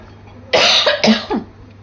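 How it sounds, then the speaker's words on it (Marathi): A single loud, close cough with a couple of bursts, then quiet. "खोकला आलाय मला"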